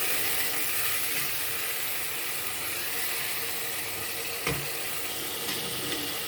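Fish sauce with sliced pepper fries in a pan while being stirred, giving a loud, steady, close sizzle with a brief scrape of the spoon partway through.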